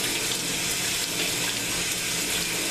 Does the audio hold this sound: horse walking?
no